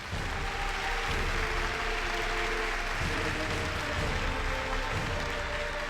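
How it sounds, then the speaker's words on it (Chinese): A television studio audience at a relationship-mediation show applauds in a steady, even roar of clapping that holds at the same level throughout. "来，请出这对夫妻，掌声有请"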